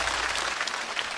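A stand-up comedy audience gives a brief, steady round of clapping, fairly soft and even, lasting just over a second.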